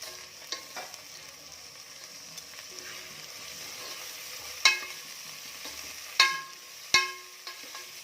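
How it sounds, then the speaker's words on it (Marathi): Large tomato pieces frying with golden-brown onions in a pan for chicken masala, a soft steady sizzle broken by a few sharp scraping clinks of a spatula, close and alone with no talk. "आता टोमॅटो देखील छान परतू देत"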